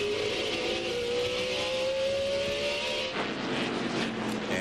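A NASCAR Winston Cup stock car roars around Martinsville Speedway during the 2001 Old Dominion 500, heard on board with Joe Nemechek: a loud, steady engine drone with slowly rising pitch that briefly dips and shifts near the end.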